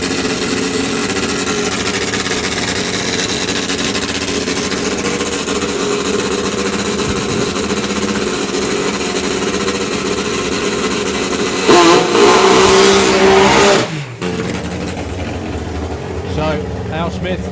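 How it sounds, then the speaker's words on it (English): A Triumph three-cylinder top fuel drag bike engine fires up at a drag racing meeting: a loud, harsh burst with a high whine that runs about two seconds and cuts off sharply, over a steady crowd and PA background. "Al Smith's going to fire up his Triumph 3-cylinder"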